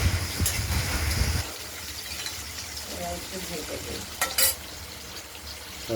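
Potato and green banana pieces frying in a pan and being stirred, giving a steady sizzle with scraping and clinks from the utensil, heard alongside some talking.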